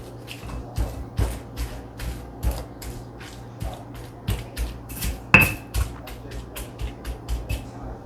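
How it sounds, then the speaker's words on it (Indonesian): Fried egg mashed with garlic chili sambal in a stone mortar, a run of sharp, close knocking and scraping taps repeating unevenly, with no talking. "Nah, ndoknya kita penyet ya. Penyet bersama sambal bawang."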